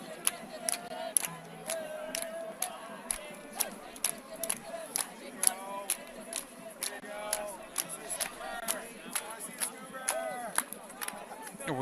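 A crowd cheers and shouts for the esports team Magic Toast, with bursts of yelling and sharp whistle-like cries repeating over a steady roar throughout, moderately loud and fairly close.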